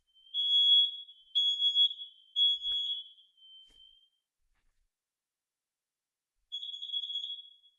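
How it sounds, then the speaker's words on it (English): Combined smoke and carbon monoxide detector sounding during a test, a series of shrill high-pitched beeps in short bursts, then a pause and another burst, close and alone. "to test our last smoke and CO detector"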